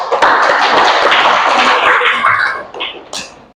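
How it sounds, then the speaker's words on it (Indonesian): A classroom of students claps together for a classmate in a school lesson, a dense burst of hand claps that fills most of the clip before thinning out into a few scattered claps at the end. "coba kasih tepuk tangan untuk kawannya"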